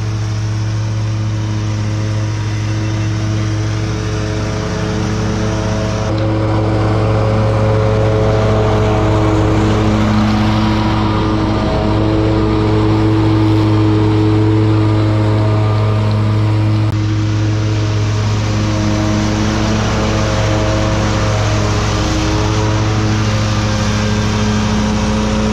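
A 61-inch zero-turn mower, a Ferris Z3X or Scag V-Ride2, runs at a steady high idle close by, a loud continuous engine drone with a strong even hum that barely changes over the whole stretch, with no talking.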